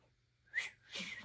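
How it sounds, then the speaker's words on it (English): A faint, breathy attempt at whistling: a brief airy squeak followed by a longer hissing blow that never settles into a clear tone, close and quiet in a still room. "Wow, I can't whistle."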